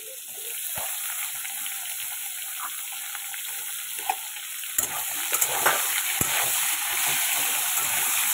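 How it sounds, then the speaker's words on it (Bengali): Potatoes tipped into hot oil in a home kitchen, a continuous crackling sizzle that steadies and grows a little busier partway through, with occasional sharp clinks and pops standing out near the end. "এই যে আলুগুলো সব দিয়ে দিচ্ছি তেলে করে।"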